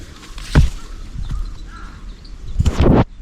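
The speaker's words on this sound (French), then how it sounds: "Plein d'oiseaux qui volent." Crows caw over a forest lake in Hokkaido, a few loud, harsh calls near the start and a louder burst near the end, with quieter bird sounds and a soft outdoor hush in between.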